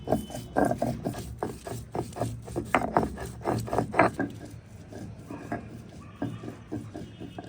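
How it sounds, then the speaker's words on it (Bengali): Fresh pointed gourd leaves being ground into a paste on a grinding stone in a village kitchen: close, rhythmic, rasping scrapes in quick strokes that give way to softer, quieter rubbing after a few seconds. "এবার পটলের পাতাগুলো বেটে নেব"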